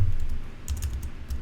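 Quick, light keystrokes on a computer keyboard as a command is entered on a Cisco switch console, a short irregular patter of close clicks over a low background hum.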